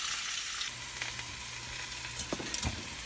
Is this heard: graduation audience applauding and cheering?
no